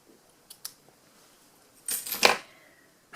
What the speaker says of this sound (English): Trim your ends